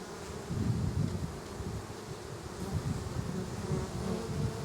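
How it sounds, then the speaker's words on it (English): A dense, continuous drone rises from honeybees in a freshly opened hive, a few bees sitting on top, the close buzzing pulsing a little in loudness throughout with no talking. "Just a few bees."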